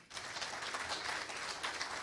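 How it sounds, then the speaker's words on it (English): A roomful of people at a club meeting applauds a new member, a dense, even wash of clapping held at a steady level from start to finish, heard from a distance and fairly faint. "Let's give him a warm round of applause."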